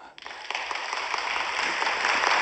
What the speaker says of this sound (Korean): 이 말씀에 옳은 박수 한번 쳐보세요.